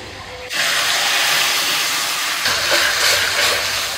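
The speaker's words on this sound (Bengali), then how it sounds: "লঙ্কা টমেটো যেটা সিদ্ধ করে নিয়েছিলাম, তো সেটা আমি একটুখানি পেস্ট করে নিয়েছিলাম, সেটা দিয়ে দিচ্ছি।" Boiled chilli-tomato paste hitting a hot pan with fried garlic, a sudden loud sizzling hiss that starts abruptly and holds steady to the end.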